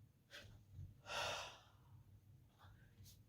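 Audible breaths in and out during a corporeal mime exercise, a strong airy exhale in the middle with softer breaths before and after, close and fairly quiet.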